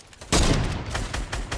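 A sniper rifle shot in a video game cracks out loud and sudden, then a dense burst of gunfire follows with several sharper reports trailing off over the next second.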